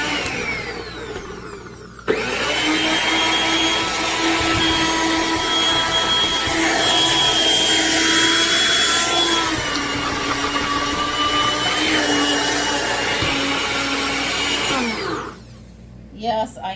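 Freeze-dried tomato pieces being ground into powder in a blender, a loud steady whirring motor running about thirteen seconds after a quiet start, then cutting off, with brief clatter afterward.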